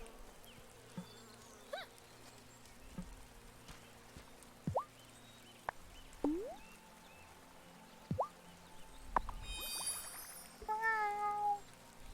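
Cat in the farming game Wylde Flowers, giving a few short, rising meows spaced apart against a quiet buzzing insect-like background, with one brighter chirping call near the end.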